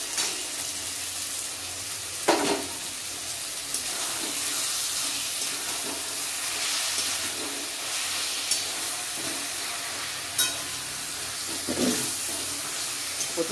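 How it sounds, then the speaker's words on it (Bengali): Fish heads frying with taro leaves (kochu shak) in a pan, a steady hissing sizzle throughout with occasional soft clatters and stirring bumps, no voices. "এবারে আমি মাছের মুড়োগুলো দিয়ে দিচ্ছি"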